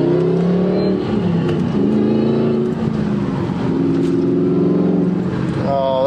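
Car with a loud Borla ATAK exhaust revving close by, a throaty engine note rising and falling through several revs, with a voice talking faintly underneath.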